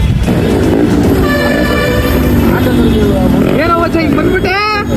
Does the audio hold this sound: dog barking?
no